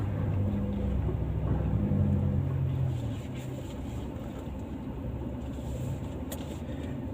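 A car in two-wheel drive travels a rough dirt road in the Philippines, its engine a low close rumble that eases partway through, with bumps and rattles from the uneven surface.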